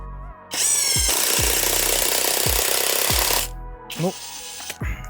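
A Pro-Craft PWA36 impact wrench, with a sticking switch that turns itself on, hammers loudly and close for a sustained burst of about three seconds. A second shorter burst follows after a pause, then a brief final blip.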